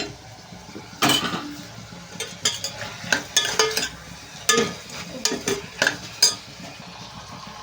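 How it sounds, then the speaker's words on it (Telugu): Cashews frying with tomatoes in a pan for a cashew paneer curry: scattered scraping and clinking of a spoon against the pan over a faint sizzle, the stirring strokes irregular and close by. "ఇప్పుడు జీడిపప్పు అయితే దీంట్లో వేస్తాను, ఇది కూడా వేగించేసుకుందాం."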